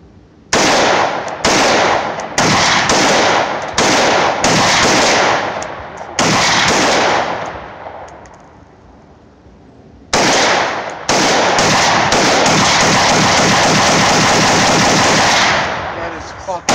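AR-15 rifle firing with no flash suppressor: loud, close bursts of rapid sharp shots in clustered runs, a short pause, then a long sustained string of fire.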